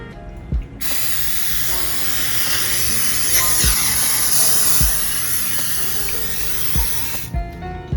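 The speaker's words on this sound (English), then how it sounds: "You use some non-stick and you spray your pan." A long continuous hiss of cooking spray onto a pan, bright and close, framed by a few light knocks before and after.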